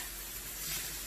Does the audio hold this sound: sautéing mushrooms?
yes